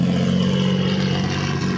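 A revving car engine at a car meet roll-in, a loud, steady low mechanical roar with a strong droning hum that holds throughout, with no talk over it.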